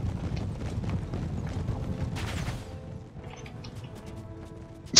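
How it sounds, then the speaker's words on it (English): Massed hooves of Persian horse archers in the video game Empire Total War drum in a dense, continuous clatter, mixed with scattered battlefield cracks. The rumble thins partway through, and a sharp hit lands at the very end. "the Persian horse archers are going to emerge right behind them"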